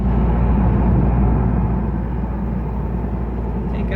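A beat-up Toyota 4Runner rolls down the road, its cabin filled with a loud, continuous low rumble and road noise, heard from inside.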